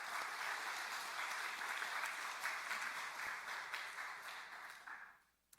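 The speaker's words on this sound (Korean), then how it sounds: "우리 할렐루야 찬양대 축복하고 격려하는 박수 하겠습니다." A congregation applauds the choir and worship team during a Sunday worship service at a Korean church, with sustained, full clapping that gradually fades out and ends.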